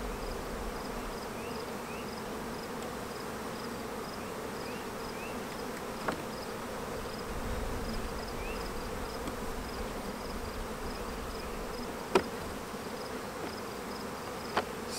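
Steady, continuous buzzing of many honeybees fills the scene at moderate level, with occasional faint clicks and ticks over a low outdoor hum.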